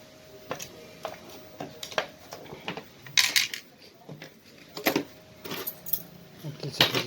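A bunch of keys jangles and clinks in repeated short bursts, close and fairly loud, with someone talking quietly in between.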